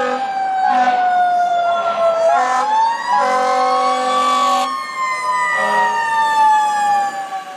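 A toy fire truck with a water gun on top sounds its electronic siren, a loud, continuous wailing tone that rises and falls steadily and stays close and steady throughout, with no voices.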